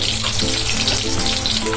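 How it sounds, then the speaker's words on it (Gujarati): Small onions frying in hot oil in a pan while cooking chana dal shaak, a steady dense sizzling hiss throughout with no talk. "તો હવે તેલ આપણું આવી ગયું છે, તો એમાં આ ડુંગળી આપણે તળી લેવાની છે"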